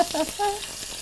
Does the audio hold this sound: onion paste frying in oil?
yes